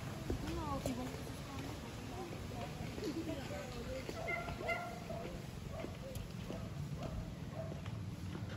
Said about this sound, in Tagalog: Nagkakayatan yung mga aso, no?